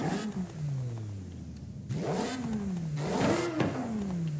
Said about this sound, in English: Louder induction sound.